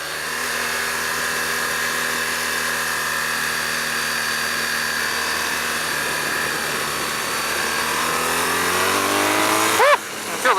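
A BMW R nineT Scrambler motorcycle engine runs continuously while riding in dynamic mode, a loud steady drone whose pitch slowly climbs as it accelerates, then drops sharply near the end with a quick gear change.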